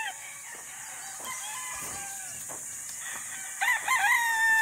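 Kelso blend stag roosters crowing, several crows from different birds at moderate distance, with a clearer, louder crow near the end over a quiet farm background.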